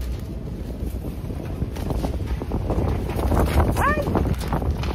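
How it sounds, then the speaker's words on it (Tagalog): Strong outdoor wind buffets the microphone in a garden plot of parsley, cucumber, beans and bok choy, a loud rumbling roar that swells toward the end with a faint vocal sound. "Palakas po ng hangin."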